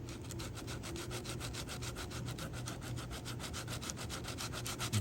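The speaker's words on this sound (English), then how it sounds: "and then using a sanding block" A sanding block is rubbed by hand along the edge of thin wooden inlay strips held to a board under a straight edge, giving a steady rhythmic back-and-forth scrape, quiet and close, with no talking.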